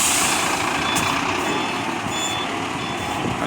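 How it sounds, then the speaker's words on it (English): A truck reverses on a mountain road with its backup alarm beeping over a loud, steady engine rumble and a faint hiss of air brakes. "It's told to reverse and so that the truck can start up again."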